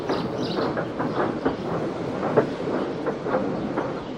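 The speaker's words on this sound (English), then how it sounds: "Thomas pushed the breakdown train alongside." A steam train pushing a breakdown train and trucks along rails, with a steady clickety-clack of wheels over rail joints, rhythmic clanks repeating about every half second under continuous rumbling noise.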